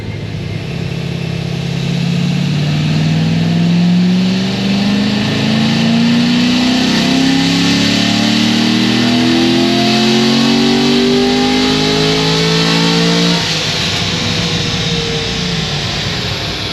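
A car with an RPM Stage 3 upgrade and 35,000 miles on it makes a cold pull on a dyno. The engine climbs steadily in pitch for about thirteen seconds, loud and close, then drops off suddenly when the pull ends.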